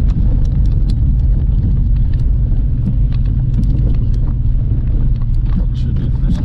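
Loud, steady car engine drone held at high revs in first gear, a dense low rumble that persists for the whole stretch, with some wind buffeting over it.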